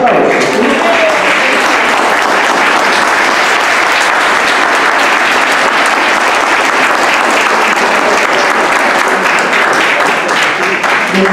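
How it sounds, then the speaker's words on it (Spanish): Loud, sustained audience applause at a choir concert, a dense continuous roar of clapping hands that holds steady for about eleven seconds, close and full with a faint crowd murmur beneath. "Vamos a darle un fuerte aplauso."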